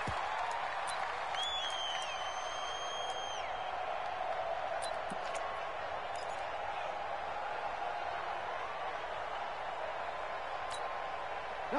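Stadium crowd noise in an American football video game, Rams at Cardinals, with home fans making it loud: a constant, even roar of the crowd with a few thin whistle-like tones early on. It holds at a moderate level throughout.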